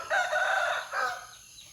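A rooster crows loudly and close by at Wat Pong Chai temple in Chae Hom, Lampang, Thailand, a long drawn call followed by a shorter tail, with faint chicken clucks around it.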